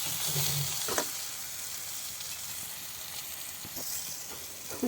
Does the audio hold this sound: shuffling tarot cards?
no